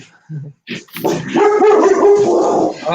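A dog gives a few short barks and yips at close range, followed by a longer whining, howl-like vocal that continues to the end.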